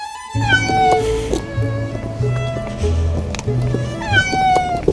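A cat meows repeatedly in rising and falling calls, close and fairly loud, with a low rumbling background throughout.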